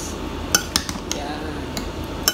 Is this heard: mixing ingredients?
yes